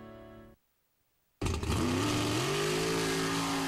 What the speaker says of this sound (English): trucks of all sizes revved up their engines to race at Pioneer Park this weekend